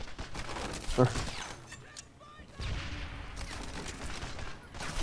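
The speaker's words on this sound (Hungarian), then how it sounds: "És egy teraszról lövöldözök Nooktubbal" Bursts of rapid gunfire in the video game Medal of Honor: Airborne crackle between stretches of talking, with a sharp loud shot near the start and more scattered shooting later.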